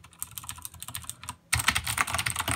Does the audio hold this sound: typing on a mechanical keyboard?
yes